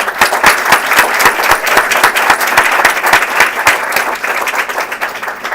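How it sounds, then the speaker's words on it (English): Event audience gives a warm round of applause, continuous dense clapping with sharp individual claps standing out, steady throughout. "would you please give him a round of applause"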